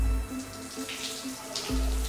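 Water runs steadily from a tap for rinsing, a close, continuous hiss and splash that stays even throughout with no voices.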